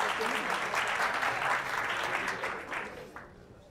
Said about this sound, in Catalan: Un aplaudiment, molt bé, 225 punts.